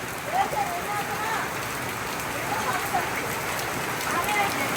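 Steady rain patters on surfaces at a rural home in Bangladesh, a dense continuous hiss with scattered drops, while voices speak faintly beneath it.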